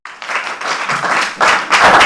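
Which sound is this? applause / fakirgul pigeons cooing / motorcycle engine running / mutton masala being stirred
applause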